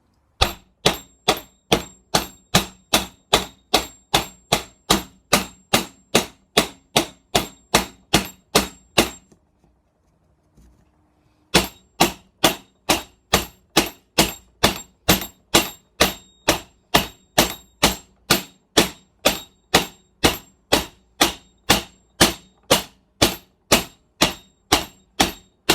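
A hammer taps a metal handguard fitting for a Suzuki GSF 1200 Bandit to mushroom its top: dozens of crisp, evenly spaced clanking strikes in a steady rhythm, broken by one brief quiet pause before the tapping resumes.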